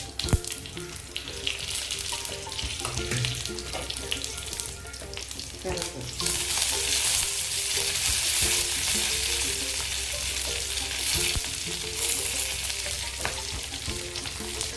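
Garlic and green chillies fry in oil in a pan, a steady bright sizzle with occasional stirring clatter that swells louder and hissier partway through, no one talking.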